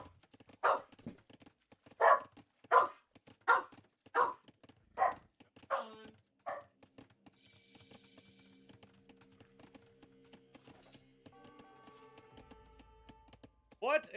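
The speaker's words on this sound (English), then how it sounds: "Why are you a noisy dog?" A dog lets out a rapid, steady run of about nine sharp barks, then falls silent while a quieter background of clicks and low hum continues.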